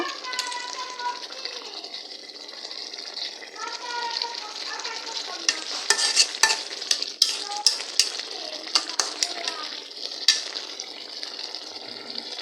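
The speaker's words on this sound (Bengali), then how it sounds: "ভালো করে মাছগুলো কষিয়ে নিব" Fish being sautéed and stirred in a pan, a continuous sizzle with sharp scraping and clattering spatula strokes, while voices, including a child's, talk alongside.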